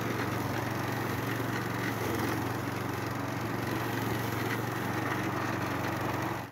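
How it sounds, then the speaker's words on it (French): A lawn mower runs steadily and fairly close on a large piece of land, its engine a constant droning hum with no pauses or pitch changes. "moi je passe à la tondeuse, c'est parti"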